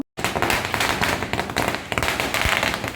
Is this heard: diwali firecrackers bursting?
yes